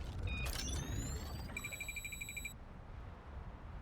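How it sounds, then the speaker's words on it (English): An electronic alarm goes off in the video game Girls Frontline 2, first rising sweeps and then a steady, rapidly pulsing high beep for about a second, above a low rumble that keeps going after the alarm cuts out. "There's a blinding flare of light and the sound of an alarm"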